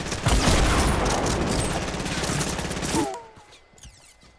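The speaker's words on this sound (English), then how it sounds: "Are you getting shot at" Dense, rapid automatic gunfire in the Fortnite video game, loud and sustained for about three seconds before cutting off abruptly, leaving quieter game effects behind.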